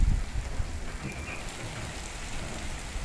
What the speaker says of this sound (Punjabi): ਕਿੰਨਾ ਆ ਗਿਆ ਦੇਖੋ ਮੀਂਹ,